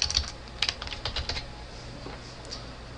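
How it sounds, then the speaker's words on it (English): Someone types on a computer keyboard, producing a short run of close, crisp key clicks that taper off after about a second and a half. "we'll just type in VIP card"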